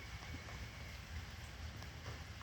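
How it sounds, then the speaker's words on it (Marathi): Steady heavy rain falling outside, a constant broad hiss with low rumbling, continuous throughout and fairly distant. "बाहेर खूप सारा पाऊस झाला."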